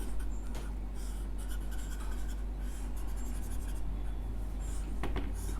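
A resistor circuit diagram being drawn by hand, pen or marker scratching steadily in short strokes over a constant low hum, close and continuous with no talking.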